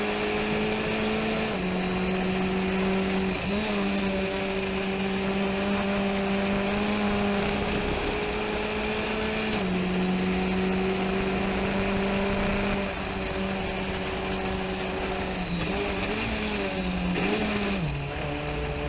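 Race car at Summit Point circuit accelerating while held in second gear, with a steady, loud in-car engine drone whose pitch rises and dips through the run, continuous and without talk.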